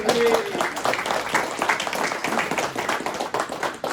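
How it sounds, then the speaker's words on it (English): A room audience at a comics event claps for an editor at the back, a dense patter of hands running the full few seconds, fairly close and steady, with a brief voice near the start. "Give this man a round of applause."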